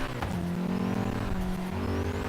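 Turbocharged four-cylinder Nissan Silvia S13, tuned for drifting, in Forza Horizon 3, holding a loud steady engine drone with a sustained harmonic whine throughout, close and continuous with no talk over it.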